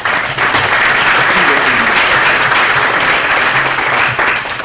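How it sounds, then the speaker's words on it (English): A round of applause from the audience at a lightning round session, honoring the previous presenters: loud, continuous clapping from a sizable crowd that holds steady and tapers slightly at the end. "Let's give a round of applause to the previous presenters."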